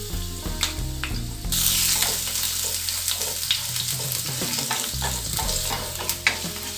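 Finely chopped ginger and garlic sauté in a pan for masala pasta, giving a continuous close sizzle punctuated by scraping, clicking stirs and a louder burst of frying partway through.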